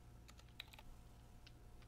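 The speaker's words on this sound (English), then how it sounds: "There is a keyboard typing sound right there." Keyboard typing in the NeosVR game's backrooms, a few faint, scattered key clicks over a low steady hum, heard alone without voices.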